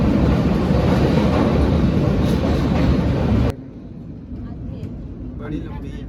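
A passenger express train on the Konkan Railway rumbling loudly through its longest tunnel, 6.4 km long, a dense steady roar that suddenly drops to a quieter rumble partway through.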